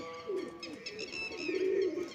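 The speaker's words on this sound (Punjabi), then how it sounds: "ਕਬੂਤਰ ਆਪਣੇ ਉੱਡ ਰਹੇ ਨੇ ਦੇਖੋ ਤੁਸੀਂ ਵੀਡੀਓ ਦੇ ਵਿੱਚ" Pigeons coo in soft, throaty rolls close by, with a few light chirps mixed in; no wingbeats stand out clearly.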